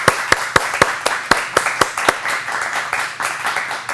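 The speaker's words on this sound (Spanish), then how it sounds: "Pues un aplauso enorme para José Luis Jiménez." Applause for a speaker at a talk: a small audience claps in sharp, fairly sparse hand claps that blend into a softer patter, with a faint voice underneath.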